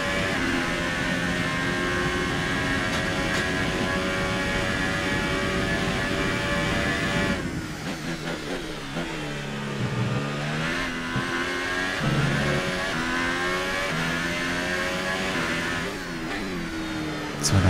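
Formula 1 cars at Monza in the F1 2018 racing game, a loud continuous engine whine with rising and falling pitch through gear changes, steady for several seconds before dropping into downshifts and revving again near the end.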